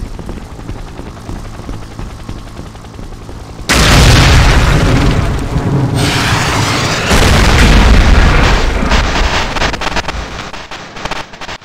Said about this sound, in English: He's got a grenade!